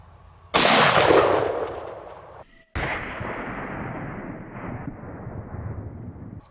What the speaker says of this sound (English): Let's shoot him again.